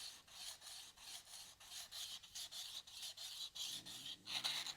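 A card scraper's edge is filed flat with a file while hardwood holds the scraper at 90 degrees, giving a steady, close rasping with regular back-and-forth strokes, about a dozen in succession, with no talking.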